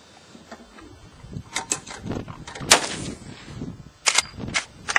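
Shots from a gun fouling up during an outdoor target session, several sharp cracks in an uneven run, with a cluster of quick reports near the end, mixed with handling clatter close by.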